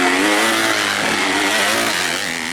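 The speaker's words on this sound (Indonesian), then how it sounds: "MX-2 250 cc melewati tikungan Niki Super Auto Nation di sirkuit Puncak Bila Kabupaten Sintang" MX-2 250 cc motocross bikes racing through a corner at a dirt circuit in Sintang during a regional championship, several loud close engines revving and wavering together in pitch with no voices.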